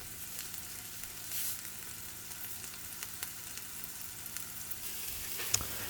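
Onions and mushrooms fry in melted butter in a pan, giving a steady low sizzle with occasional faint crackles and a soft stir near the end, without speech.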